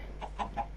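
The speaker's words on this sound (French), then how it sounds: "Encore un poulet." A chicken in a survival video game gives three short, soft clucks spaced evenly across less than a second, faint and alone over a low steady hum.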